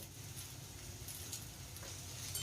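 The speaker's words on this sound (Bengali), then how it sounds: "এই তেলের মধ্যেই আলুটা ভেজে নেব।" Potatoes fry in oil seasoned with salt and turmeric, giving a steady, soft, close sizzle with faint crackles and no voices.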